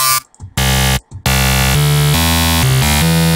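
A plain, unautomated dubstep bass patch from the Massive synth: loud, harsh and buzzy sustained tones that start with two short stabs separated by gaps, then play as a continuous gritty line that steps between pitches, with no voices.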